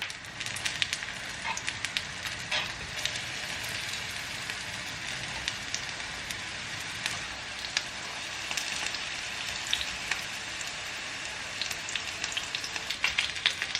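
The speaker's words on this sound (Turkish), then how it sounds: "Şöyle yanlarını da kızartayım." Food crackles and sizzles steadily in a frying pan at the stove, a dense, even hiss with scattered sharper pops running throughout, close and fairly quiet with no voices.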